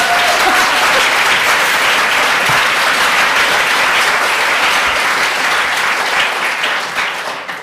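Loud, sustained applause from a lecture-hall audience at an LSE economics event, dense clapping that holds steady for several seconds before tapering off near the end, with no talk over it.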